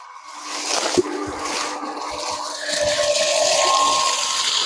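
An ACI AGM-6C 1.5 horsepower electric irrigation pump runs steadily, pushing out a loud continuous rush and gush of water that swells slightly louder partway through, with a sharp knock near the start.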